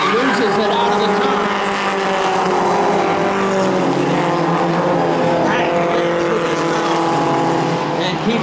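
A 4-cylinder pro stock race car engine drones steadily at a feature race, its pitch shifting slightly as it pulls away, with other cars around and an announcer talking over it throughout.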